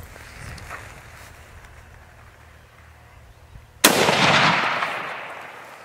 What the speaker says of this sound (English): The shot runs true, felling the stag where he stands